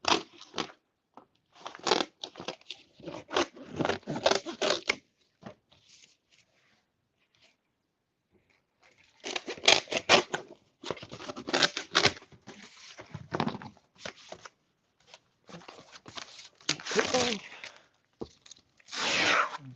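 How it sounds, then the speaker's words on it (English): Scissors snipping through cardboard while a ramp is built, in close, crisp bursts of cutting and crinkling separated by a quiet pause midway. "scissors will be fine for this"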